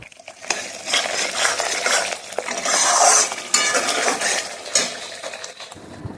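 Spice paste for fish curry stirred and fried in a pot, a steady close scrape and rattle of a spoon against metal over continuous sizzling oil that swells and eases for several seconds, no voices.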